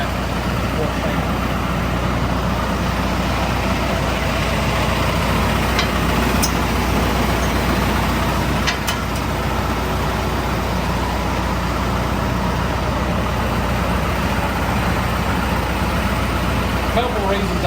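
A John Deere 5130 tractor idles steadily throughout with a Frontier RT3081 rotary tiller attached, a continuous close diesel rumble with no break.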